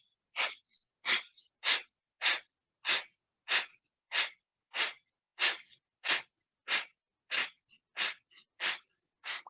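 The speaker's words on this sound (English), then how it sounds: "you breathe through the nose, pumping the belly in and up on the exhales" Rapid, forceful exhalations through the nose during a yoga breathing exercise, about fifteen sharp, evenly spaced puffs, close and clear with silence between them.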